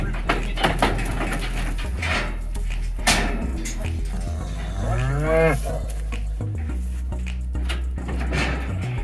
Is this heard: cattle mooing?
yes